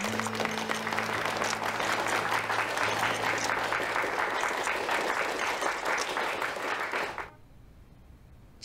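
Steady applause from a group welcoming a new employee to a company, filling the room for about seven seconds and then stopping abruptly, with a low hum running underneath.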